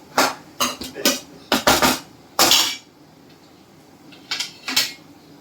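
A spoon scrapes and clatters against a pan as onion is stirred for chana chatpata, in a few quick bursts with short pauses, close and fairly loud, with no talking.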